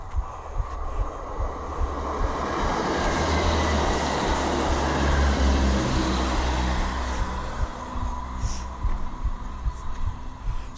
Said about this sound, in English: Watch this train go by.